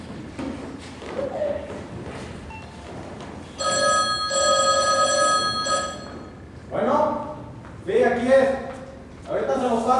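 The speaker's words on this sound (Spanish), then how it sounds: "Lo llaman por teléfono." A telephone bell rings in a domestic scene, a loud electric trill lasting a couple of seconds, followed by people talking in Spanish.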